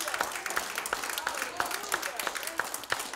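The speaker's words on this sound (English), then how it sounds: "Give the Lord a hand clap this morning." Church congregation gives a hand clap during a Sunday morning service, a lively burst of many hands with sharp rhythmic accents, fairly distant and moderate in level, with voices mixed in.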